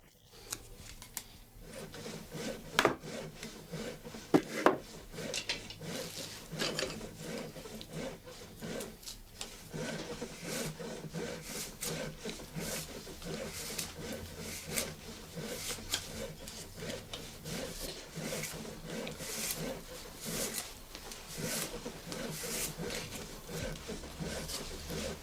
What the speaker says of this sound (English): The rake maker finally adjusts each tooth to match the hole size using his knife.